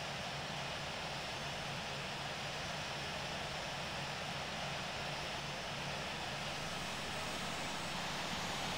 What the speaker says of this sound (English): Los Angeles Unicom, Air Force 2 is taking off runway 7 left,